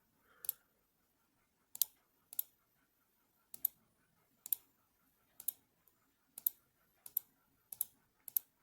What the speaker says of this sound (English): I'll click around here, and now I'm just fixing all the ones in the top row here.